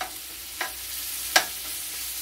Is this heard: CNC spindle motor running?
no